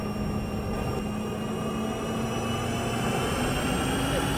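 Steady, loud airliner engine roar during takeoff, heard from inside the cabin as a continuous broadband rumble with a low tonal hum, holding constant with no talk.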